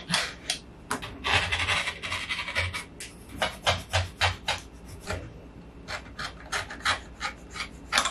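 Fabric is cut into strips in quick, close rustling and snipping bursts, running in an uneven rhythm with short pauses.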